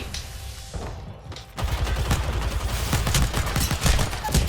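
Rapid gunfire in Apex Legends, a quick fusillade of sharp shots that starts after a brief lull and keeps rattling loudly to the end.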